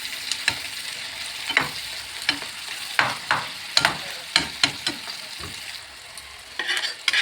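Food fries in a pan while being stirred, with a steady sizzle under sharp, irregular clacks of a utensil against the pan, close and fairly loud.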